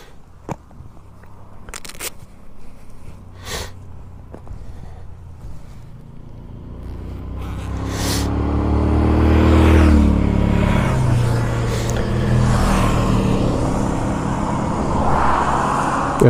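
A vehicle engine pulls away after being put in gear, its low rumble climbing steadily in pitch and loudness and then holding at a steady drone, with a few scattered knocks early on.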